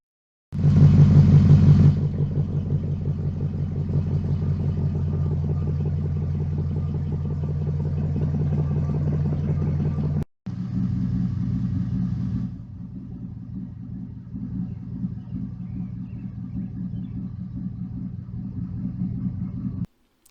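Deep 4.7-litre V8 truck engine idling with a rumbling exhaust, a brief rev at the start, then a steady lopey idle that drops slightly partway through.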